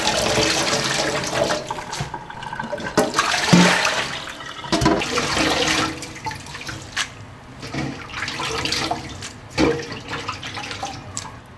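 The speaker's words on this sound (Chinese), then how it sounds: "然后我们直接给里面加水就成" Water runs into a hot pot being filled for a clear broth base, a steady splashing pour with fluctuating gurgles throughout, fairly close and alone without speech.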